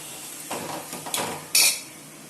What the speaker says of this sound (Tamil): மொத்தத்தை இப்படி கிளறி விட்டுக்கணும்.